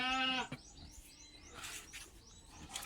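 Goats bleating at a rural farm, one loud wavering bleat up close followed by fainter calls and chirps at a quiet distance.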